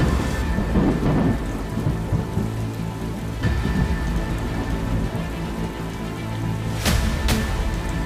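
Heavy monsoon rain pours steadily on surfaces in Ahmedabad, a dense continuous hiss with rolling thunder underneath and a sharp, close crack of thunder near the end.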